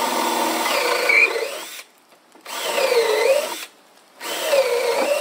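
A power drill bores a hole into a wooden post in three loud, close bursts of whirring and squealing bit noise, separated by short pauses.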